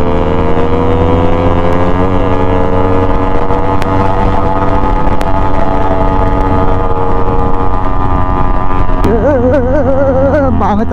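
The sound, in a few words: two-stroke motorcycle engine riding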